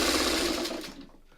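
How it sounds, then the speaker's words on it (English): A sewing machine stitches fabric in a steady, fast whirring burst that runs loud for about a second, then slows and fades out. "We're going to sew it like this."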